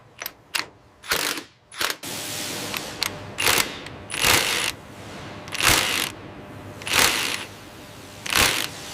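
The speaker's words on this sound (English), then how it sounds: "Now secure the bolts." Bolts tightened with a ratcheting tool on a yellow school bus assembly line, with repeated bursts of mechanical ratchet clicking separated by short pauses against steady factory hum.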